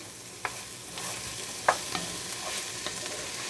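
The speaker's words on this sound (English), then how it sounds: "We'll give these onions a stir here. They're cooking a little bit." Onions cooking in a soup pot, a soft steady sizzle with a few light scrapes of a spoon stirring them, close and fairly quiet.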